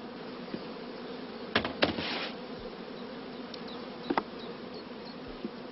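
Honey bees buzz around hive supers fitted with bee escapes, a soft steady hum with a few louder close passes of individual bees, no voices.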